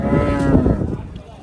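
A cow at a cattle market in Chinthamani gives one loud, close, sustained moo that trails off after about a second.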